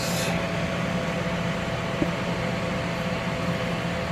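A New Wave Brio air fryer runs with a grill pan inside, giving a steady, even fan whir and hum that holds constant throughout, with one faint click.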